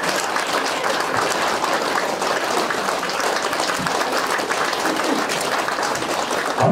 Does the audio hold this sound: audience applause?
yes